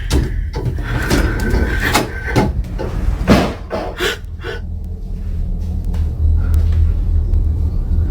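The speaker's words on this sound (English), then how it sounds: "I can hear my kitchen cabinets banging" Kitchen cabinets banging at night in a quiet house: a series of sharp knocks and thuds, several clustered close together, then fading into a low room rumble with shaky breathing nearby.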